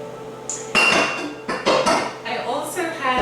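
A copper pot handled on a stovetop while making ghee gives metallic clanks and scrapes, fairly close, over steady background music.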